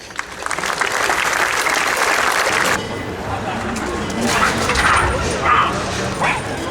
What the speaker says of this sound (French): je vous demande pendant cette cavalade de faire une minute d'applaudissement à sa mémoire